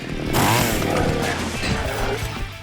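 Chainsaw revving in the 2010 video game Splatterhouse, a loud, continuous buzzing roar that starts abruptly and holds steady over combat sound effects, with no talk.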